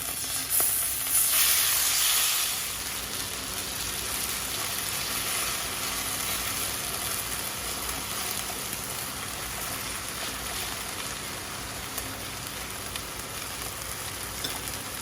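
Strips of beef hit a very hot pan for a beef, broccoli and mushroom stir fry, letting out a loud hiss that settles into a steady sizzle with no voices over it.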